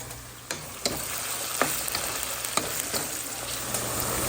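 Onions frying in oil in a pan, giving a constant hissing sizzle with several sharp clicks and taps from stirring, heard close up with no talking.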